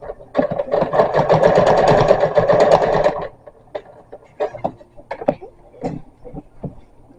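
A sewing machine stitches the edges of a pillow sham in a dense, fast buzzing run for about three seconds, then stops, leaving soft handling clicks and rustles with a voice speaking quietly.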